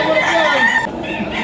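A green-legged Henny gamefowl rooster crows once, loud and close, in a short, strained call that breaks off quickly.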